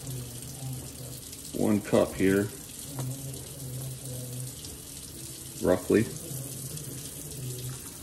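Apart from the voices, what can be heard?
pouring warm water into baking soda mixture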